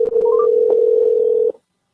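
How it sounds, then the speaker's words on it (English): A steady telephone tone hums for about a second and a half, loud and close, then cuts off abruptly into silence as a caller is dialed back during a radio call-in show. "so I'm just dialing her back"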